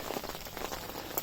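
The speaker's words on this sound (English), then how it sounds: "Just wish it had stopped raining for a few days." Rain falls steadily on surfaces in a garden at night, a dense, even patter of drops close around, with no voices.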